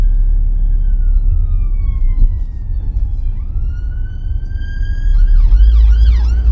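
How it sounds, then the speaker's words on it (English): An ambulance siren wails, sweeping up and down over steady traffic rumble, drawing closer and switching to a faster yelping pattern near the end. "there's an ambulance coming"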